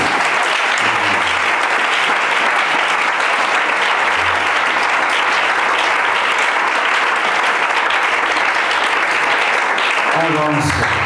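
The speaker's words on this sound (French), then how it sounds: "Oh, on acclame Jésus." A church congregation applauds loudly and steadily in acclaim of Jesus during a French-language sermon, the dense clapping filling the whole stretch with voices calling out beneath it.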